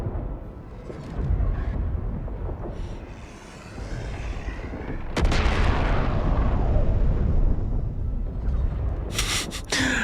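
Heavy booming video game mortar shell explosions rumble through a dense, noisy battle soundscape, with a sharp loud burst midway and crackling bursts near the end.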